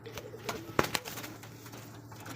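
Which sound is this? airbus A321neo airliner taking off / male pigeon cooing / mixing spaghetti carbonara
male pigeon cooing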